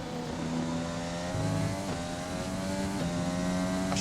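Simulated F1 race car engine from the F1 2020 video game on a flying qualifying lap of the French Grand Prix on soft tyres, a loud sustained high-pitched whine shifting through gears and holding steady throughout, with no talk.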